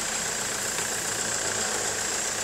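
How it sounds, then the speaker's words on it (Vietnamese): A 2017 Ford Transit van engine, mid-spec with a common-rail diesel, idles warm and steady, a continuous even rumble with a faint ticking knock, close and alone with no voices. "Máy nổ khá là nóng rồi"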